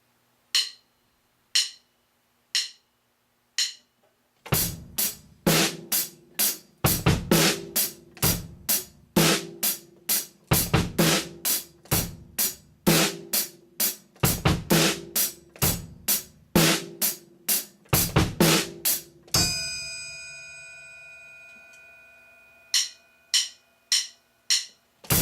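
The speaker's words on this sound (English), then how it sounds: "So the 5th groove on the PDF has the bass drum on the and of 3." A rock beat on a drum kit built on eighth notes, with the bass drum added on the and of three. Sparse clicks count in, then a steady, close, loud groove runs, a crash rings out near the end, and more lone clicks follow.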